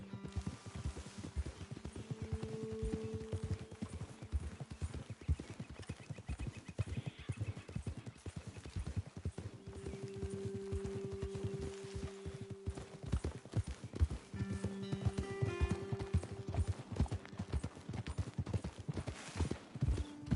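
Horses' hooves clip-clopping steadily on a trail in the Western video game Red Dead Redemption 2, a continuous close rhythm of hoofbeats with occasional snorts, fairly quiet under faint ambient noise.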